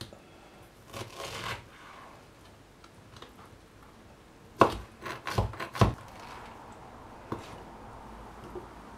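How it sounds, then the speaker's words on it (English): A knife cuts through charred pineapple on a mat, giving a few soft, close chopping knocks spaced out, with a denser cluster of thuds in the middle. "Our pineapple has some char on it. Just going to cut the middle bit out."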